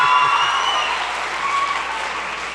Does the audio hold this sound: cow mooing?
no